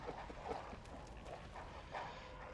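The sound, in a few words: dogs barking in the video game Bloodborne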